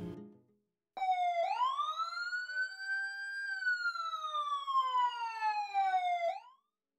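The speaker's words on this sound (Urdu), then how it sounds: "اتنے میں سائرن کی آواز آتی ہے۔" An ambulance siren wails alone, a single long rising then slowly falling tone that starts abruptly after a brief low rumble and cuts off cleanly, heard clear and moderately loud.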